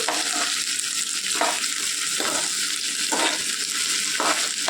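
Masala ingredients frying in oil for a spicy sambar, a loud close continuous sizzle with rhythmic stirring strokes roughly once a second.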